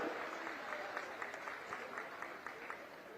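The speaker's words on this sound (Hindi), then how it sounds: "जोरदार ताली बजा करके उनका स्वागत करो।" A crowd at the opening ceremony of the Sarguja Olympics 2026 in Ambikapur claps to welcome ministers, a dense, sustained patter of applause from many hands at a moderate distance that continues throughout.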